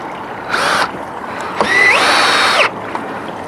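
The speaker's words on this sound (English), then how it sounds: "I'm screwing all of them in, so it's taking longer" Power drill driving screws into brackets on a repaired arris rail fence, two whining bursts, a short one and then a longer one that rises in pitch, close and loud with faint clicks between.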